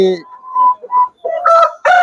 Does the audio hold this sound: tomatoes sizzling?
no